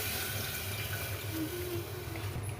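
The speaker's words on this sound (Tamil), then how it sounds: "இப்போ தேவையான அளவு தண்ணி சேர்த்துக்கலாம்." Water pours steadily into dal, with moong dal and salt, in a pressure cooker for a potato moong dal dish, a close, even splashing stream heard alone.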